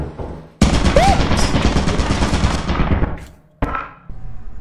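Automated turrets in Lethal Company rattle off a loud, sustained machine-gun burst for about two and a half seconds, fading out, then a short second burst cuts in and stops abruptly.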